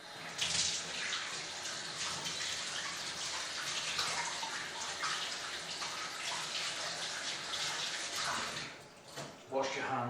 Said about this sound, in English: Wash your hands with hot water.